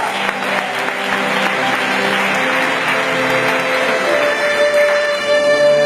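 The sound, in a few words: audience applause at a church service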